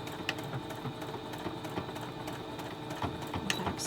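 A sewing machine back stitches the folded pleats of a fabric mask in quick, rattling bursts of needle clatter, close and fairly quiet, with brief pauses between runs.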